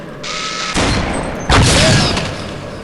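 Cluster bombs explode during a bombing run in the Gunman Chronicles shooter game, with two heavy, close blasts following a mechanical whirr, each leaving a rumbling, crackling tail.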